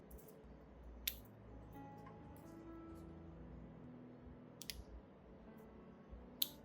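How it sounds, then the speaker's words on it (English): Scissors snip off rotten orchid roots in a few brief, faint clicks spaced several seconds apart, set against a quiet, low background hum. "Next, cut off all the rotten roots."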